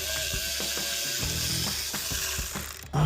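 A socket ratchet clicks in quick repeated bursts while loosening a nut with a 13mm socket on the intake of a 2020-2023 GMC Sierra 2500 pickup, close up, with no talking.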